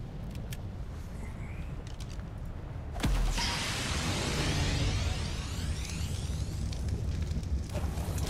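Creature burning alive in Ark Survival Evolved, a sudden loud whoosh of fire flaring up and then a sustained roaring crackle that continues to the end.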